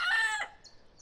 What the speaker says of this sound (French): Donc lui, par exemple, c'est un coq.